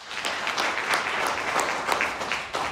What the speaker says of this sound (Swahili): Tujipigie makofi mengi.